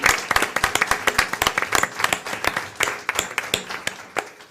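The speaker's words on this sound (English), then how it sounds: "Just a round of applause" A room of staff and guests at a school board meeting gives a round of applause to a woman being honored, close, uneven hand claps forming a steady patter for several seconds.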